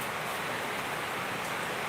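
Steady rain falling outdoors at a farm, a dense, even hiss that stays close and constant throughout with no voices.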